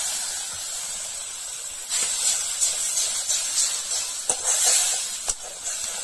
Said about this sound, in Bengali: মশলাটা যাতে না পুড়ে যায় তার জন্য সামান্য আমি জল দিয়ে দেব মশলাটা